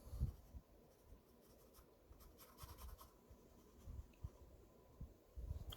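Pencil scratches and strokes across paper in a quiet close-up, with irregular bursts of short scribbles and longer rubbing lines, soft but clear with no talk.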